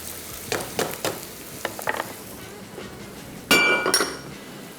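Onions frying in a pan, heard as a low, soft sizzle under intermittent utensil clinks and scrapes. A louder burst of sizzling and clattering comes near the end.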